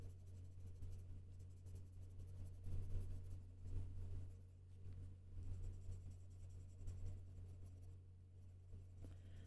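Colored pencil blender smoothing over paper, a steady soft scratchy rubbing that continues throughout, close and fairly quiet, with a low background hum.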